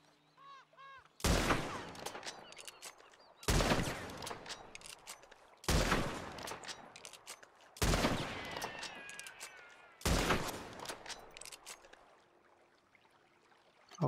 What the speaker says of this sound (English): let's just shoot 5 bullets here really quick.